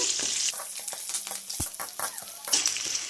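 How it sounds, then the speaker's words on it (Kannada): Black pepper, cumin and garlic frying in a pan, giving a busy crackling sizzle with repeated scraping stirs and light spoon clatter, close and continuous over a few seconds. "ಈಗ ಎಲ್ಲ ಈ ರೀತಿ ಚೆನ್ನಾಗಿ ಫ್ರೈ ಮಾಡ್ಕೊಳ್ಳಿ"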